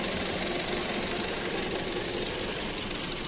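A 2016 Skoda Octavia with a 1.6 engine and automatic gearbox idles steadily, a constant close mechanical hum with a light ticking knock and no speech.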